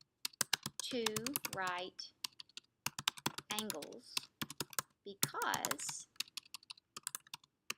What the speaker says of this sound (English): having a hard time typing today